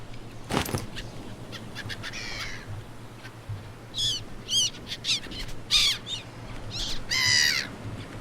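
Seagulls squawk and cry in repeated bursts across an island in the survival game Stranded Deep, several harsh calls rising over a steady low ambient hum, fairly close and clear.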